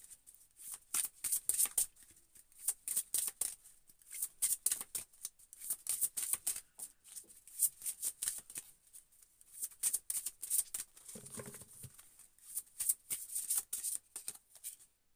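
Tarot cards are shuffled steadily and close up, with a continuous run of crisp riffling and slapping bursts and no voice heard.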